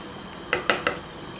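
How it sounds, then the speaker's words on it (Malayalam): Spoon scraping and clinking against a metal pressure cooker while mixing rice and masala for chicken biryani, three sharp clanks in quick succession over a quiet background. "ഇനി ഈ അരിയും മസാലയൊക്കെ കൂടിയിട്ട് നന്നായിട്ടൊന്ന് മിക്സ് ചെയ്ത് കൊടുക്കുക."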